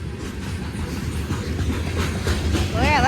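Union Pacific grain train cars clatter over a rail diamond crossing, with heavy rhythmic rumbling and clicking wheel impacts close by and a brief squeal near the end.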